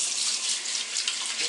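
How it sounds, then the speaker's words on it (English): Tap water runs steadily into a sink during handwashing, a continuous close hiss and splash with no talk. "Let me wash my hands."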